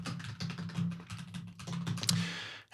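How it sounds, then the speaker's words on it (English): Quick, uneven clatter of keys on a computer keyboard during programming, close and fairly soft, with a steady low hum beneath and no speech. "and it's going to be more typing."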